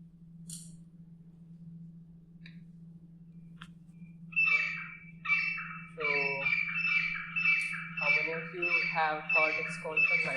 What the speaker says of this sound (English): this grey francolin, and I'll play its call